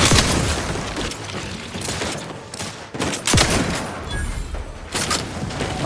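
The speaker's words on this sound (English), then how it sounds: "I really like this shotgun" Shotgun blasts in The Outer Worlds 2, a sci-fi space adventure game, boom out as loud, repeated shots in a busy firefight, with several sharp reports spaced irregularly over the scene.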